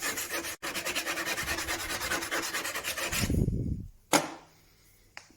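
A hand file rasps steadily along the blade of a pair of secateurs, sharpening the bevel in quick repeated strokes for about three seconds, then stopping, followed by a low handling rumble and a couple of sharp clicks.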